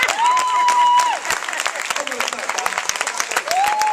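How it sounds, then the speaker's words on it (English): Steady applause from a church congregation, dense clapping throughout, with a sustained tone rising and falling over it and some voices mixed in. "Give me a hand clap for that"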